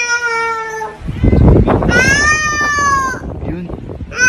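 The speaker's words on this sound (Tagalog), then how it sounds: "May ibang pusa ata nakapasok dito sa bahay." Cat meowing indoors in a house: two long, drawn-out, clear meows separated by a burst of rustling and handling noise, with a short softer call near the end.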